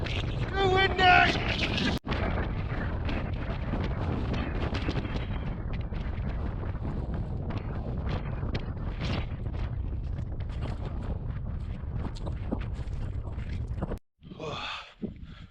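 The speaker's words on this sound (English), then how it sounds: "Too windy!" Strong gusting wind roars across the microphone near the summit of Lingmell on the Scafell Pike corridor route, a dense continuous buffeting that drops out abruptly near the end, where a voice briefly speaks.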